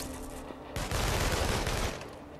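Gunfire in the Infamous Second Son video game, a dense, loud burst of rapid automatic shots that starts abruptly and rattles on for about a second and a half before trailing off, with no talking.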